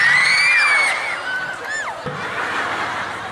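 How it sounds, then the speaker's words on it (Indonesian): Audience cheering and shouting at a comic religious talk show, loud crowd noise with some whistling and voices blending together, sustained through the whole moment. "Tepuk tangan."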